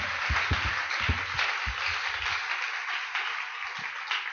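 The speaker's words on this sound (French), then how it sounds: "Applaudissons fort le Seigneur." Church congregation applauding during a service, several sharp claps early on that fade into softer scattered clapping over a background hiss.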